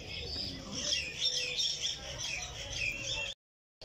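Birds call inside a large netted walk-in aviary beside a lakeside park, with overlapping chirps and squawks close by, ending abruptly in silence.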